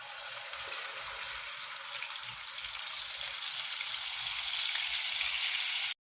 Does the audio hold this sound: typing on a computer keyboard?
no